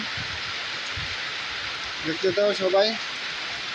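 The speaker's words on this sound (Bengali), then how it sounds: "দেখুন কি অবস্থা করতেছে, তুফান বৃষ্টি অবস্থা শেষ করে দিচ্ছে।" A heavy rain storm pours down in a steady, loud, dense hiss that continues throughout, while a voice speaks briefly near the end.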